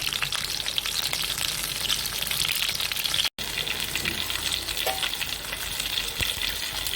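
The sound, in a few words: pomfret fish frying in a pan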